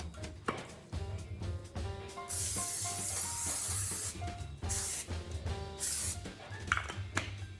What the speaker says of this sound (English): This is non-stick spray.